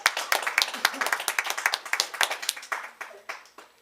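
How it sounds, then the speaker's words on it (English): An improv theater audience gives a round of applause, a burst of many hands clapping that starts loud and gradually thins out and fades over a few seconds. "Nice round of applause"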